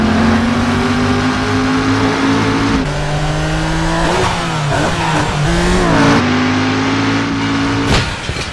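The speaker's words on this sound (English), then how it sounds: "We're going to get straight into a car chase between John Tanner and Jericho" Video game car chase in Driver San Francisco, with engines revving loudly and continuously, pitch rising and dropping through gear changes, mixed with tire noise and crashes.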